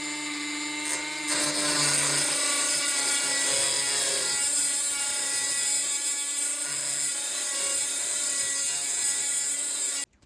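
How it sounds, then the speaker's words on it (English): A Dremel rotary tool grinds through a clamped piece of brass bell metal on a guitar workbench, a loud sustained whine with buzzing harmonics running nonstop after a short start-up, then cutting off abruptly. "I'm going to do this cut and get it over with using a Dremel tool."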